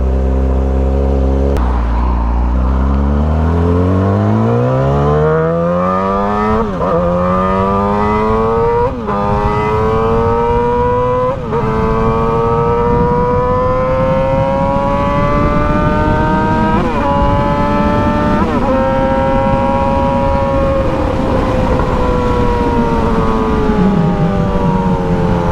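A 2007 Yamaha R6 sport bike fitted with a Power Commander 5 and full exhaust revs hard and close, its pitch climbing and dropping through repeated high-revving sweeps, loud and alone throughout.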